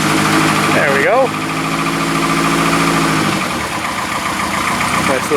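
A classic car engine runs at a rough, close idle soon after a cold start, its uneven throb holding steady as a person speaks over it.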